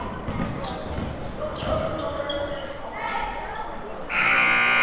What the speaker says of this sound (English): the buzzer hits at halftime